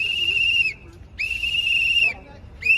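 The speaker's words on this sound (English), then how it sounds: "You blowing a whistle in people's ears," A shrill whistle at a street protest sounds in three long, loud blasts, each held steadily with short pauses between, over faint background crowd noise.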